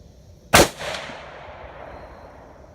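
A single sharp rifle shot from a Ruger Precision Rifle, loud and close, followed by a long fading echo rolling across an outdoor range, with no talking.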